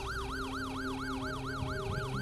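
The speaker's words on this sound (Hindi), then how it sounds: "फिर रात को 3 बजे ये एम्बुलेंस क्या कर रही है मेरे घर के सामने?" An ambulance siren outside a house at night wails in a fast, steady up-and-down cycle, loud and close, with no voices, over a low engine hum.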